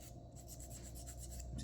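A nail file's 180-grit side filing an acrylic nail, quick, close, repeated rasping strokes in a steady back-and-forth rhythm, faint but clear.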